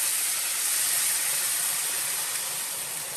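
Loud, steady hiss of chicken broth hitting a hot skillet of toasted orzo, a continuous broadband sizzle with no pauses, close up.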